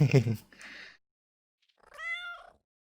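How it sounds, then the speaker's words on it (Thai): A cat in the video game Timelie gives a single clear drawn-out meow after a brief pause, following a moment of a person talking. "ก็จะมีแมวอย่างนี้"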